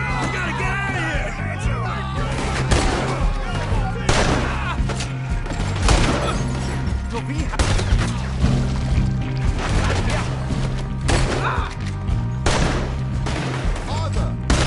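Repeated gunshots crack through a Red Dead Redemption 2 shootout, sharp bursts firing in irregular volleys over a low droning score, with voices shouting between shots.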